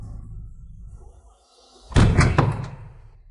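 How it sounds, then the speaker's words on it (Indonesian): Sharp knocks or a heavy thud against a house door late at night, a loud burst of two or three close impacts after a quiet stretch with low rumble. "Tengah malam mengetuk-ngetuk apa?"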